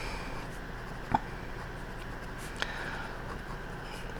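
A pen scratches softly on paper as notes are written by hand, faint and close against quiet room noise, with a couple of small taps.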